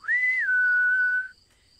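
A voice whistles one sustained, slightly falling note imitating a gust of wind, clear and close, then cuts off into quiet.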